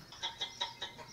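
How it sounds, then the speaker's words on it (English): Chickens clucking in a quick series of about five short, bright bursts spaced evenly over a second, moderately close against a soft background hiss. "Now they're chickens."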